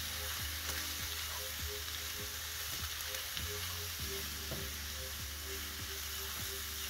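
Beef and other ingredients sizzle loudly in a hot pan while being stirred and folded, with a continuous frying hiss broken by repeated scraping and clacking of the utensil against the pan.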